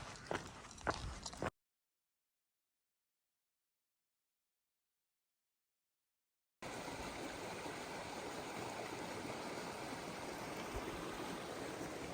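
A creek flows along the Appalachian Trail near the Vermont state line, close to a beaver dam. It makes a steady, full rushing wash after a few seconds of silence, with some faint scuffs before the gap.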